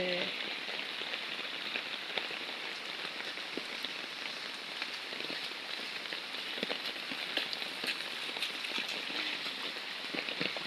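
Heavy monsoon rain pours steadily onto a road during a low-pressure downpour, with rainwater running along the street; a dense, continuous hiss of drops and scattered sharper splashes fills the scene evenly throughout.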